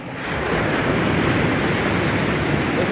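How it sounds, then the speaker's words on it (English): Ocean surf rolling onto Malibu Beach, a continuous loud wash of breaking waves with wind buffeting the microphone, steady throughout. "See those waves?"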